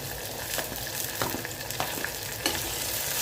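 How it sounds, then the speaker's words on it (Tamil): Onions and garlic sauté in a pan for a fried bitter gourd kuzhambu, giving a soft, even sizzle with occasional sharp spatula taps and scrapes, close but fairly quiet, no talk. "நல்லா பூண்டு சேர்த்து வதங்கட்டும்"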